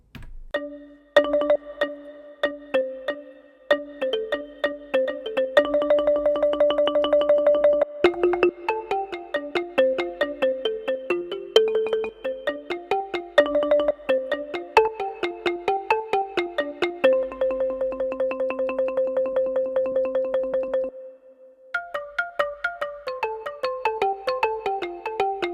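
A Lao instrument voice set plays on a Yamaha Genos keyboard: bright plucked melodic notes in quick runs and repeated tremolo-like patterns, with no one talking and a short pause near the end.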